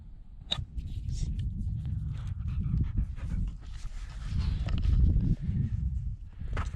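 A dog pants steadily and close at a wild bivvy camp in the Northern Pennines, with rustling and light movement sounds from the campsite underneath.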